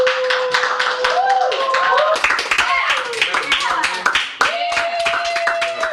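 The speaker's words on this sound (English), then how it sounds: "TJ comes down from the therapy session to a round of applause and is completely confused" A round of applause from a small group greets someone arriving downstairs from a therapy session, scattered hand claps running throughout under cheering voices and an overlapping talking voice.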